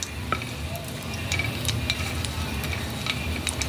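Dry red chilli frying lightly in hot oil in a home kitchen, giving a low, steady sizzle with scattered small crackles and occasional stirring clicks across the whole stretch, with no talking.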